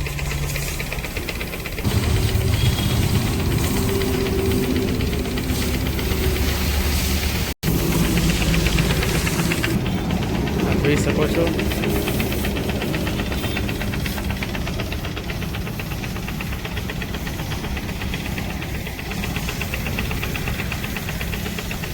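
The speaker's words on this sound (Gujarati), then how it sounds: "આપણું ટ્રેક્ટર ધોરાઈ રહ્યું છે" A tractor is being washed: a loud, unbroken hiss of high-pressure spray over a steady mechanical hum, with a brief break partway through.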